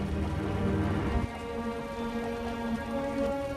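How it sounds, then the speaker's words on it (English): Steady, dense rain falls in the Wuthering Waves game world, a constant hiss of drops on surfaces with a low rumble that eases slightly partway through, heard alone and fairly close. "The rain's getting heavier."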